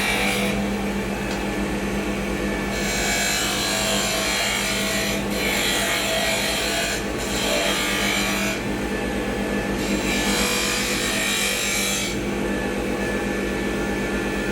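Skew chisel cutting a wooden barrel on a spinning lathe with a light touch, a continuous scraping hiss over the lathe's steady hum that swells and eases in several long passes.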